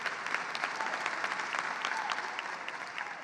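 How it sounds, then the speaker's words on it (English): Audience applause at the Women's Basketball Hall of Fame induction ceremony, a steady, even wash of many hands clapping throughout with no voices over it. "round of applause."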